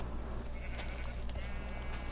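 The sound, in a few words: sheep bleating in the video game Minecraft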